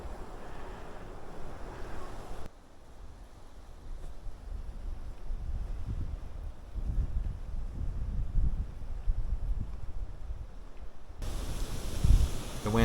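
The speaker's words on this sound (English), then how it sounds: "The wind started picking up real heavy here again." Heavy wind rushes through the woods in a steady roaring gust, buffeting the microphone with low rumbling and surging in strength toward the end.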